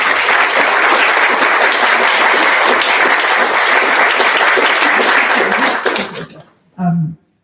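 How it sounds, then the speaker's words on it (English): Loud, dense applause fills a government house investiture ceremony, sustained steadily before cutting off abruptly, followed by a brief murmur or chuckle. "Maybe a round of applause for Sharon"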